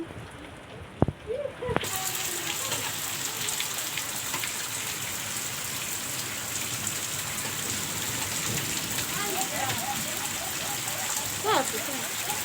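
Steady heavy rain falls outdoors in rural countryside, a dense continuous hiss of drops on the ground with occasional louder splashes and patters, close and even throughout; a person speaks briefly over it.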